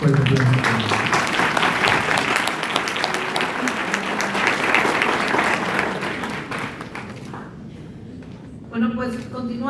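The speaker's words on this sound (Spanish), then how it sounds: "Un fuerte aplauso." A conference audience gives a strong round of applause for a speaker, a thick, sustained roar of clapping that holds for several seconds, then thins and fades before a voice briefly speaks near the end.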